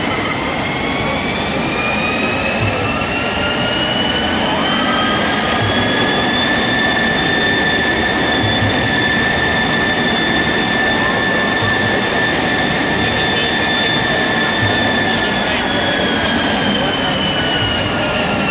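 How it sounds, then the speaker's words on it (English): Loud, steady roar of the Slammer rotating freefall ride at Thorpe Park, with mechanical whine and rising and falling tones running throughout, no talking. "We've survived the ride on Slammer, the rotating freefall experience, and Alex looks a little bit ill."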